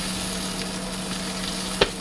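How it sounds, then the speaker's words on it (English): Steady crackling sizzle of steak frying in a hot pan, close and continuous, with a single sharp click near the end. "Man, listen to that thing sizzle."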